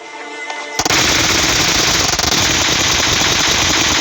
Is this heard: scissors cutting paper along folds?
no